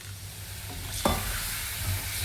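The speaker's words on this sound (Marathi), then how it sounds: "आता याच्यामध्ये आपण थोडं पाणी सोडायचं" Water is poured into a pan of sizzling spiced potato curry, giving a brief sharp splash and hiss over a steady low sizzle, with stirring continuing close by and no talk.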